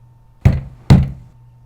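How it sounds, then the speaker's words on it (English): Two hard knocks on a door, evenly spaced about half a second apart, loud and close with short decay, alone with no talking. "If I hear nothing, I knock again."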